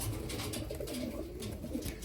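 Show Homer pigeons, a rare breed, a large-bodied female and a male, cooing softly and continuously up close, with low throaty murmurs rising and falling.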